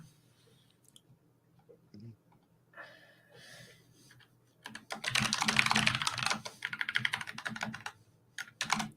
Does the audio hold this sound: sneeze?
no